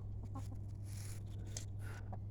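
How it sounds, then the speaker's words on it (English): Backyard garden chickens cluck softly in a few short scattered calls over a low steady hum, quiet and close. "Here are the chickens."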